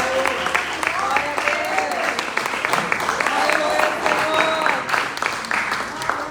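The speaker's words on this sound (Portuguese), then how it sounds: "Que as palmas louvem o Senhor, em nome de Jesus." Congregation at a church worship service claps steadily in praise, a dense sustained crowd applause with voices and shouts mixed over it throughout.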